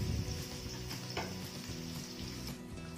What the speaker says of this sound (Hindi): अब हम एक पतीले में ऑयल डाल के उसमें प्याज डाल देंगे बारीक कटी हुई